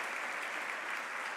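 A church congregation applauding during a Spanish-language sermon, a dense, steady wash of many hands clapping throughout, even and sustained.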